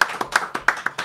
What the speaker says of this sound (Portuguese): Galera, Lia Kinderé. Palmas!